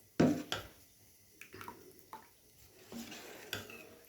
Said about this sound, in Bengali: একটু নেড়ে দিচ্ছে এটাকে।